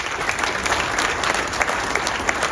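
A room of guests at a golf association awards event applauds the golf professionals with steady, dense clapping that stays even and close throughout.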